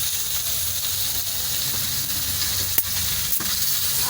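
Pieces of katla fish fry in oil in a pan, a loud continuous sizzle and hiss heard close, with a couple of faint knocks and no voices.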